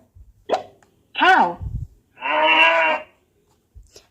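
A talking flash-card toy's electronic voice plays a cow moo: a couple of short clicks and a rising call, then a long, sustained moo, close and clear.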